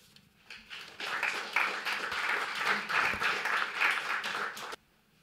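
A conference audience at the SharePoint Leadership Forum 2012 breaks into steady applause to welcome a speaker, dense clapping lasting about four seconds before cutting off sharply.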